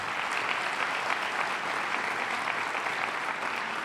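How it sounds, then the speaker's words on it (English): A crowd claps continuously in a dense, even wash of applause that holds steady from start to finish. "And that you should applaud"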